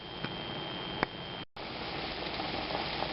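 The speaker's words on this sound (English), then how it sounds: "I am up to a boil, and it's pretty fierce over here" Bone broth at a fierce rolling boil in a full pot on a stovetop, a continuous bubbling hiss with small pops and one brief cut to silence midway.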